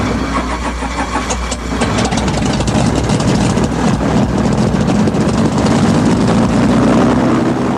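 Propeller engine of a Lake Aircraft Seawolf amphibious aircraft running steadily, a loud continuous drone that builds slightly after the first second and holds without any voices.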